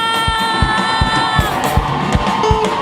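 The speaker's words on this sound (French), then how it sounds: "Avec des cris de joie." A festive crowd cheers and whoops with joyful cries over steady dance music with a regular beat, voices shouting together throughout.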